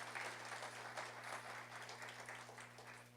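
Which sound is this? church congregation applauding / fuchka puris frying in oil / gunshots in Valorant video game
church congregation applauding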